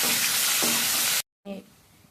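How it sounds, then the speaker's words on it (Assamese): Onion, ginger and garlic paste sizzles loudly in an open pressure cooker, a dense steady frying hiss with a stir partway through. It stops abruptly, then returns more faintly under a short voice. "ইয়াতে পিঁয়াজ আদা নহৰু পেষ্টটো দি দিছোঁ। এইখিনি ভালদৰে মই ভাজি ল'ম।"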